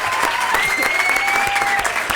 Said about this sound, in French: Applaudissez Charlotte encore